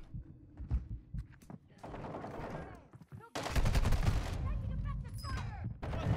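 Rapid gunfire bursts from the Warzone 2 video game, loud and dense, with bursts of shots crackling in the first half and a sustained heavy barrage in the second half, with players' voices talking over it.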